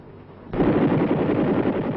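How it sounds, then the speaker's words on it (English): M60 machine gun fired from a helicopter on a low-altitude pass over a target area, a sudden loud burst of rapid gunfire over rotor noise that keeps rattling to the end. "Each student gets to fire in a low-altitude pass over the target area."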